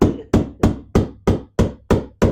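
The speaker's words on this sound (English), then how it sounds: "Okay, use the little hammer." Eight sharp, evenly spaced small-hammer strikes ring out on metal during vintage British motorcycle repair, each with a quick decaying ring, close and loud, with no talking.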